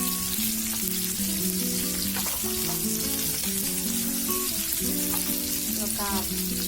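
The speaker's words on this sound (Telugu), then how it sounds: "2 నిమిషాలు ఫ్రై చేసుకున్నాము." Onions and curry leaves fry in hot oil with a steady, close sizzle and crackle that continues throughout, with a few stirring scrapes and light pops along the way.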